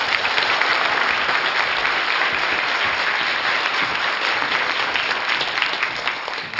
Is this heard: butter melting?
no